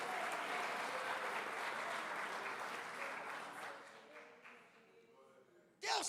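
A church congregation at an evening worship service applauds in a dense, sustained wave that slowly fades, ending with a sudden burst of sound at the close.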